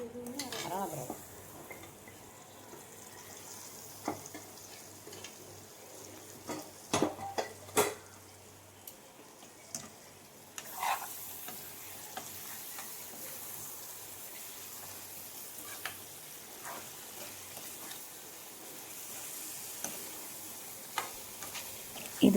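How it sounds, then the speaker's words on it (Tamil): Cooked mutton bones being stirred into masala in a pan, with soft scraping and occasional sharp clinks of a spoon against metal over a quiet background hiss. "இந்த டைமில் நம்ம வேக வச்சுருந்த நல்லி எலும்பை இதில் மிக்ஸ் பண்ணுறோம்."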